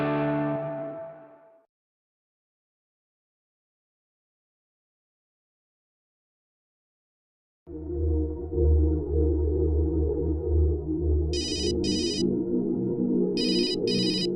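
A telephone ringtone rings in repeated electronic bursts over loud, busy background sound after a stretch of silence; a voice briefly precedes it.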